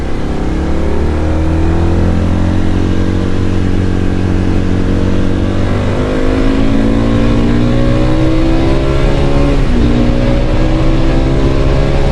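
A CFMOTO Lite 250 motorcycle engine under way, a loud continuous drone whose pitch climbs and dips as the rider changes speed, with no voices.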